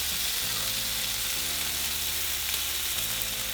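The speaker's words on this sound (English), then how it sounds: "we can begin to cook our bacon" Bacon sizzles on a griddle over medium-high heat, a dense, steady crackle and hiss from close by, with a faint low hum underneath.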